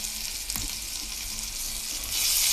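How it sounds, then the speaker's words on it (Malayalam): Tomatoes sauté in a pan with curry leaves, chilli powder and turmeric for a Malayali tomato curry, giving a steady, close sizzle that swells louder near the end, with an occasional stir-scrape and no voices. "തക്കാളി നല്ലോണം വഴന്ന് വന്നതാണ്"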